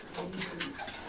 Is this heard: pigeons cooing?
yes